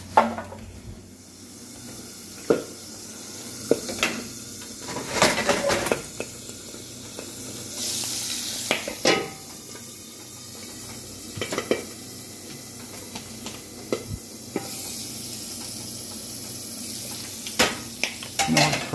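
An egg fries on a griddle beside a cinnamon bun, with a steady low sizzle and hiss running throughout, broken by sharp scrapes and clanks of a metal spatula against the hot surface.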